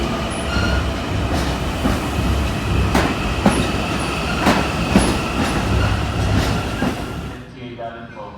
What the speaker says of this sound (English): this train bound towards Hempstead pulled in at the track next to me